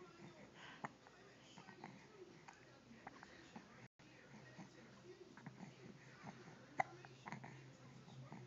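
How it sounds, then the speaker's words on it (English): A dog with the hiccups gives a run of small, sharp jerky sounds at irregular intervals, close and fairly quiet, mixed with faint snuffly vocal noises. "he likes to talk through his hiccups"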